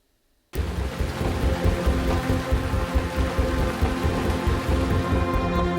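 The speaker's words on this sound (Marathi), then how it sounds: "गेल्या आठवड्यात नागपुरात झालेल्या ढगफुटी सदृश्य पावसानं काही काळात अक्षरशः हाहाकार माजवला." Heavy cloudburst-like downpour in Nagpur, a dense, steady roar of rain that starts abruptly after a brief silence and stays loud and continuous throughout.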